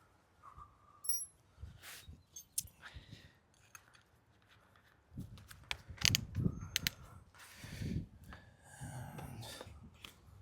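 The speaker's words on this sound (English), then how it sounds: "So now I'm going to switch this bit over." A hand drill's bit is swapped by hand, giving a series of close mechanical clicks, ratcheting chuck turns and small rattling knocks at irregular intervals, with no talking.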